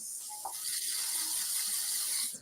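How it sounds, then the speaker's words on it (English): A steady, fairly loud hiss of hairspray from an aerosol can lasting a couple of seconds, with a faint brief squeak near the start. "I'm just going to give a bit of spray in there."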